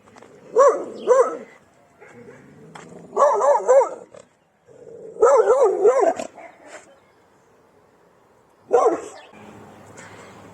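Guard dogs barking behind fenced and walled houses in a Johannesburg neighbourhood, several bursts of loud, close barks with pauses between them.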